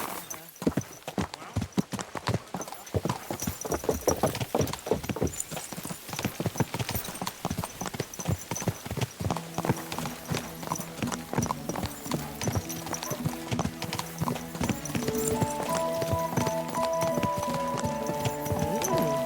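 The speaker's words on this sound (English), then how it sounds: "Mount up and ride with me." Horse hooves clip-clop at a steady riding pace in the medieval game Kingdom Come: Deliverance 2, close and continuous, while people talk over the hoofbeats and music swells in toward the end.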